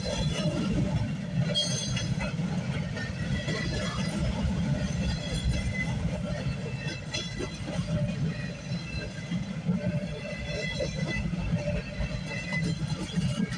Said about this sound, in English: This is one long train we're catching.